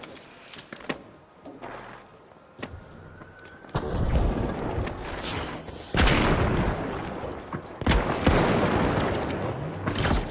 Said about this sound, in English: Got some initial shots going.